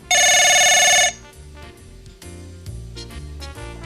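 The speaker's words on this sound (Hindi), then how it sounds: "phone, 1 minute," An old landline telephone bell rings loudly once for about a second in a Pakistani drama scene, then stops, leaving faint background music.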